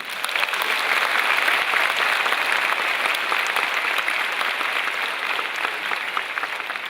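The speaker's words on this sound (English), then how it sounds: "Okay, one more time, a big hand." A seated audience at a drama event gives a long round of applause, dense and steady from start to finish, fairly loud and close, with no talking over it.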